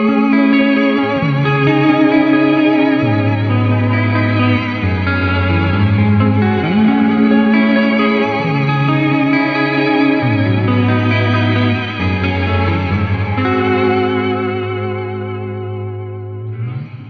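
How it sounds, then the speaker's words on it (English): Sustained guitar chords through an Astral Destiny octave modulation reverb pedal in shimmer mode swell into a lush reverb tail, a bright octave-up shimmer ringing above each note, loud and continuous. "this will add an upper octave to the reverb tail"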